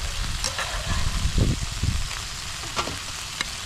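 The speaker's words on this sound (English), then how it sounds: "Oh, it's so sizzling." Meat and spices sizzle in a pan on a camping cooker, a steady close frying hiss with small crackles and a few soft clinks, no talk heard.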